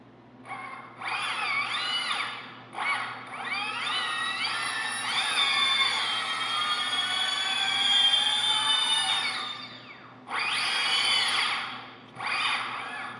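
Motors on a heavy lift drone spin up on a little throttle, giving a whine that climbs and wavers. It comes in several bursts with short gaps and one long sustained stretch, and it is fairly close and alone.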